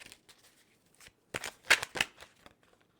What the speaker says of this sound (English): as I was shuffling